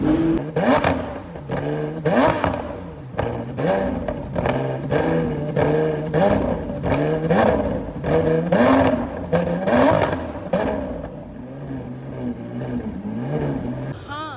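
Loud Lamborghini engine revving in repeated bursts that rise and fall, with crackles between pulses and some voices in the background, at a luxury car show in Saudi Arabia.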